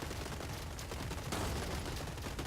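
Shotgun fire from a bot in the video game Gladiabots, a dense, continuous burst of harsh blasts at steady loudness throughout, heard alone without talk.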